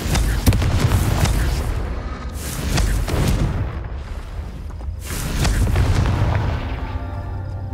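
Booming fire-spell explosions in the video game Hogwarts Legacy go off in repeated heavy bursts, with rumbling tails between blasts.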